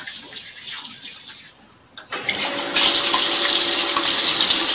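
Hands being washed under a running tap, with water splashing unevenly at first, a brief lull, then a steady loud gush of flowing water, near and with no talk.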